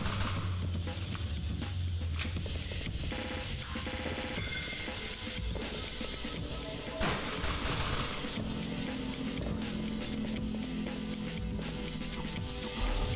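Rapid gunfire rattles continuously over dense game sound in the roguelike shooter Bonehold, with bursts of shots aimed at the player blending into a loud, busy mix throughout.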